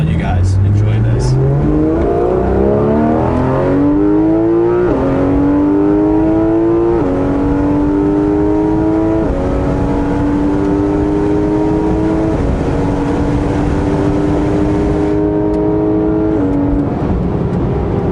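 A 2019 Porsche GT3 RS with the Weissach Package accelerates hard, its loud engine note climbing through the revs, dropping at each upshift and climbing again in a rising stepped pattern that runs steadily for about eighteen seconds.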